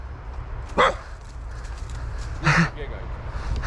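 A dog with long legs is out on a walk in a housing estate, giving two short barks about two seconds apart, moderately close, over steady outdoor background noise.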